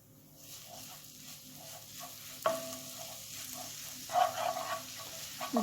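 Garlic cooks in butter in a pan, hissing in a continuous sizzle broken by sharp scraping and stirring clatters, close and clear with no voices.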